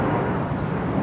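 A Boeing 757 taxiing at London Heathrow Airport, a steady, fairly close broadband jet engine roar with a faint high whine running underneath.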